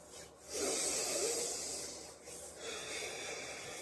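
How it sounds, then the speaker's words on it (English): Palms rub briskly together to warm them, producing a close, continuous dry swishing friction that swells and eases over a few seconds, with no speech. "See what I'm doing is just rubbing my hands together, making them warm"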